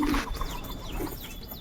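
Pigeons kept in a home setup coo and chirp softly at middle distance, a few brief calls over faint background noise.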